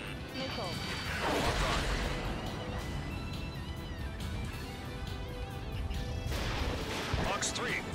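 Missile launches and combat noise from an Ace Combat 7 jet dogfight, a roaring rushing bed with whooshing surges and crashing impacts, beneath radio voice callouts.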